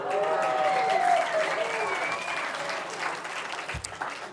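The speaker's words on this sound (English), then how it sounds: "thank you for the applause" A modest audience at an author talk claps warmly, with steady applause that fades gradually. Faint voices and a brief tone sit beneath it.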